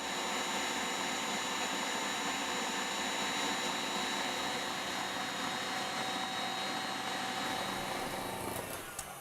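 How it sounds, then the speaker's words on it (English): An electric mixer beats eggs and sugar on its highest setting, giving a steady, loud whirring drone that holds almost unbroken and tapers slightly at the end. "we've had the mixer going for about 20 minutes"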